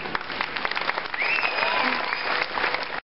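A crowd at a street performance in Chester applauds in a steady burst of clapping that lasts about three seconds and then cuts off abruptly.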